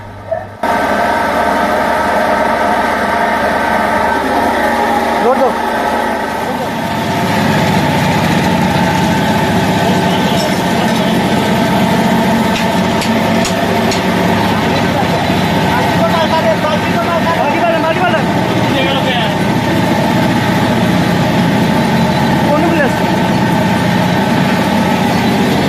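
An old single-phase ship motor driving a rice mill runs in a steady, loud, continuous mechanical drone with a low rumble, holding even for the whole stretch.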